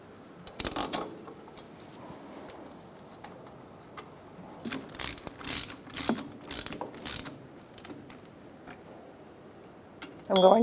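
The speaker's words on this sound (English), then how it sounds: "we're going to get all these started and then hand tightened before we torque all of them" A ratchet clicks in short bursts while bolts are run in on a Ford Expedition CV joint, with quick runs of pawl clicks and brief gaps between them, fairly close and moderately loud.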